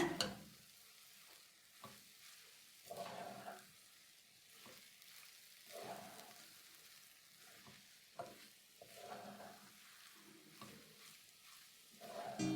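Potato and okra masala with peanut powder is stirred with a spoon in a pan, faint scraping strokes repeating over a soft, low frying sizzle, with no talking.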